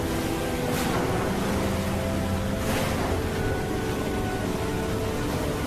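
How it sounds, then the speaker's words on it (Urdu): Heavy ocean waves surge and rush around a boat at sea in a steady, loud roar, with two stronger swells breaking through the continuous wash of water. "اچانک اونچی اونچی لہریں اٹھنے لگیں"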